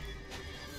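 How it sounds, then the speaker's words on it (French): Horses in The Witcher 3 let out a brief, fairly faint whinny, a short burst over a steady background. "Calmez-vous les chevaux là!"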